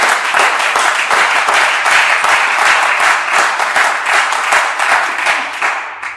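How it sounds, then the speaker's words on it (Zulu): A church congregation claps and applauds steadily and loudly throughout, a dense wash of many hands that tapers slightly at the end, with no speech. "Siyacela nje sishale ihlombe, sibashale ihlombe nabazali bethu"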